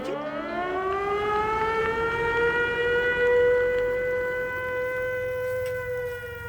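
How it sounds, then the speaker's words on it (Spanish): A civil defense siren at a Soviet military base wails in one long sustained tone, rising slightly and then holding steady and loud with no voices. "A las 9 sonaba la sirena."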